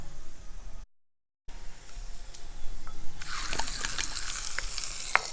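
Hot oil tempering hits a blended mustard seed mixture for mango pickle, setting off a sudden close sizzle and crackle that continues steadily after a moment of quiet.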